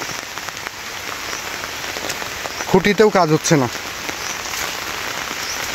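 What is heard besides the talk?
continuous rain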